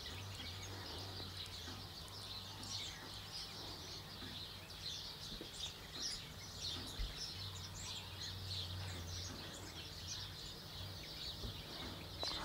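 A White-throated Treecreeper (Cormobates leucophaea) calls repeatedly with thin, high chirping notes in a quiet outdoor setting, faint against a low steady hum.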